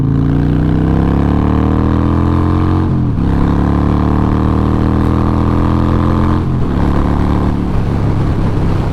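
A loud Harley-Davidson Sportster 1200C motorcycle engine revs up close, pitch climbing through the gears in repeated rising pulls with brief drops at each shift.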